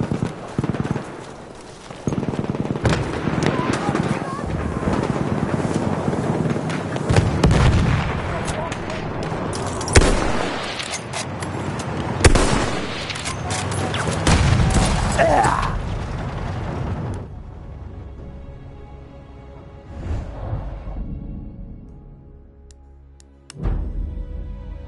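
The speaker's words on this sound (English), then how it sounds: "Dikkat! Bomba atıyorum!" Battlefield 1 combat erupts with heavy booming bomb blasts and bursts of gunfire, loud and dense for most of the stretch, thinning out near the end before another sharp blast.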